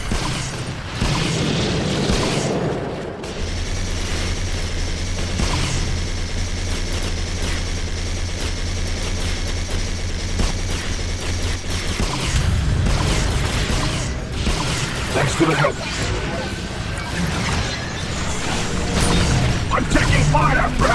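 Gunfire and explosions fill a chaotic dome defense battle in the video game Global Agenda, with loud continuous bursts, booms and a mechanical drone. Voices shout over the din.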